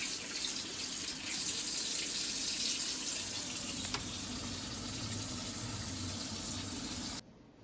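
Steady, full-bodied rush of water pouring from a kitchen tap fitted with a Water2 filter for several seconds, then abruptly cut off near the end.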